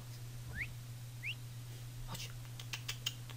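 A character in Assassin's Creed Origins gives two short rising whistles to lure an enemy, quiet over a low steady hum, followed by faint clicks.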